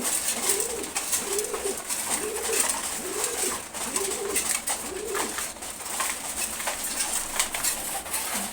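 A pair of racing pigeons resting after feeding in a loft coo in a steady run of about six rolling calls, close and clear over a constant hiss of background noise.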